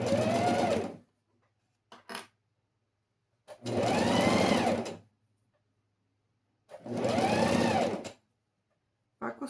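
Domestic sewing machine stitching fabric for a school pencil case, three runs of rapid whirring stitches a few seconds each, separated by quiet pauses and brief small clicks, close and clear.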